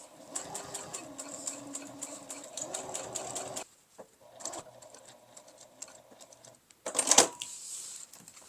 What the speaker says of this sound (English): Okay, so next I'm going to baste all the way around.